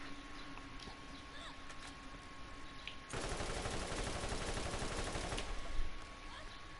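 Rapid pistol fire in Borderlands rattles out as a tight, continuous burst of shots for about two seconds, loud and close against a quieter game background of ambient noise.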